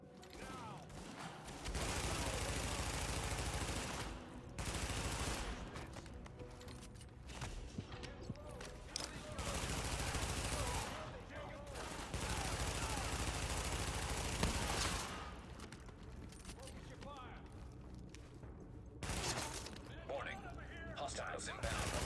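Gunfire in the video game The Division: bursts of loud automatic fire come in repeated stretches with short gaps between them, mixed with game voices and other game sounds.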